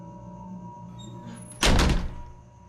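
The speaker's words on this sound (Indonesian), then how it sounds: "Dimas dikagetkan kembali dengan suara bantingan pintu." A single loud door slam, a sharp heavy thunk that rings out briefly before fading into a quiet room, used as a sound effect in a spooky story.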